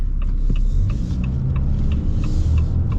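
A 2025 Ram 3500 Big Horn diesel pulls hard under acceleration, a steady deep rumble building smoothly from inside the cab with no voices.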